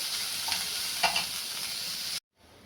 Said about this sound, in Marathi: त्यावर मिरची पण टाकायची म्हणजे कांद्यावरती मिरची चांगली परतल्या जाते आता कांदा चांगला आपल्याला परतून द्यायचा आहे